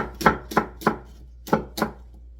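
A knife cutting a small onion into thick strips on a cutting board, five sharp chopping knocks in two uneven groups, close and clear with no talking.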